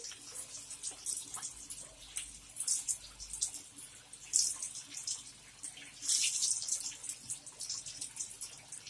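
Potatoes coated in salt and turmeric fry in hot oil, giving a soft, irregular sizzle and crackle that rises and falls in faint bursts with no talking.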